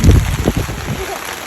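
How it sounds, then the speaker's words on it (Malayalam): A short burst of heavy rain roars loudly and steadily, with some rumbling wind-like noise at the start. "നല്ല മഴയാണ്"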